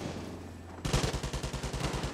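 Gunfire erupts abruptly in Far Cry 5 Arcade, a loud run of rapid, evenly spaced shots that continues to the end after a quieter game ambience, with no voices.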